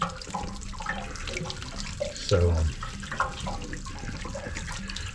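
Water pours and splashes out of an RV water heater drain while it is being winterized, carrying calcium deposits and running down the side of the RV, a steady near gush with a brief louder surge and a word spoken.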